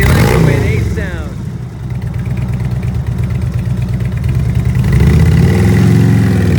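A used 2013 Harley-Davidson FLTRX Road Glide with a fuel-injected 103ci engine and Reinhardt exhaust idles deep and loud up close, with a blip of revving, while someone talks over it.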